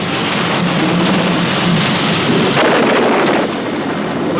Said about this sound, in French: On ne voit rien avec une pluie pareille.